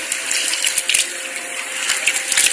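Sabudana (sago pearls) sloshes and swirls in water during washing, a continuous close watery rush with small splashes and no voices.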